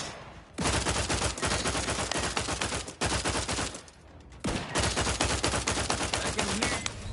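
Rapid automatic gunfire in the video game Outer Worlds 2, three long sustained bursts of dense shots separated by brief pauses, loud and close.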